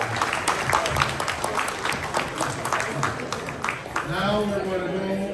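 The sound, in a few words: applause from meeting guests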